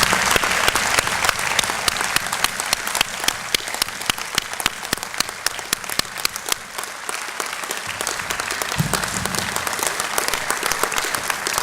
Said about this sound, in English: graduates, applaud the folks who supported you getting here.